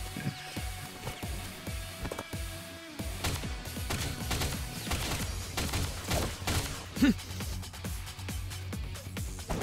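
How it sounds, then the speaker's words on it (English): Grenade launcher fire and blasts in the video game AI: The Somnium Files, a rapid run of sharp cracking shots and bursts over a low droning game soundtrack. "Shoot him with a grenade."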